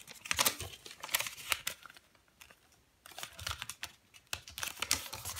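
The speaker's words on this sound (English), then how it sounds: "Fold, unfold, and then fold it up again." Origami paper for a panda face being folded and creased, with bursts of crisp crinkling and rustling close up, a short quiet pause in the middle, then more sharp paper handling.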